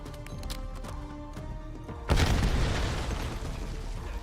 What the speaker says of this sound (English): Who's throwing grenades?